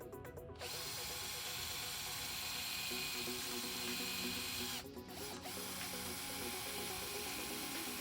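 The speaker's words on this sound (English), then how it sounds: "To disassemble it, we need a drill and a screwdriver. We drill out 2 rivets," A power drill bores out the rivets on a Peugeot 308 door limiter, a steady loud whine that runs almost without a break and dips briefly twice.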